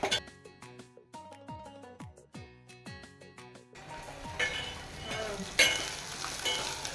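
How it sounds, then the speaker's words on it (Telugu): Cumin and mustard seeds crackle and splutter in hot oil, a dense, close sizzling burst that takes over after a stretch of plucked, tonal music and carries on steadily to the end. "జీలకర్ర ఆవాలు బేగం ఆడిపోతాయి"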